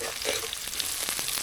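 Chopped onion, green chili and salt frying in oil, a quiet, continuous sizzle with a few faint stirring scrapes, close and without speech.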